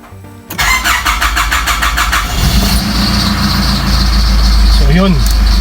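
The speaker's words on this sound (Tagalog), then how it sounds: "I-start natin ngayon yung makina. Maririnig nyo yung sinasabi kong ingay." Car engine cranks with a rapid starter whir, catches and settles into a loud close idle, while a rising squeal from a worn alternator pulley bearing chirps near the end.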